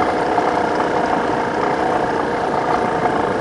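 A Serow 250 motorcycle engine pulls steadily up a steep forest road, giving a constant, buzzing drone at fairly even throttle with no speech over it.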